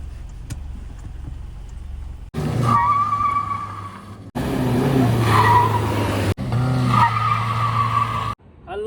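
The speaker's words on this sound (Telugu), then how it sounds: "ఇలా ఈ రెండు బండ్ల డ్రాగ్ రేస్ చేస్తున్నాం" A Toyota Hilux and a Honda Accord drag racing, with loud tyre screeching and skidding over engine noise in three abrupt bursts separated by sharp cuts, near and intense.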